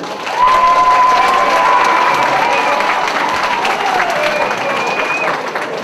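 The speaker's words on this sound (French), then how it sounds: "On peut l'applaudir?" Applause from a conference audience, a dense steady wash of clapping with some cheering that starts abruptly and holds loud throughout, with a faint voice briefly audible over it.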